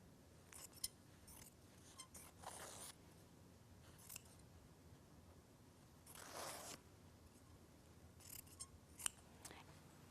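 Scissors clipping fabric at the waist make a few soft, brief snips and slides, quiet and close, with longer swishing cuts around two, six and a half and nine seconds.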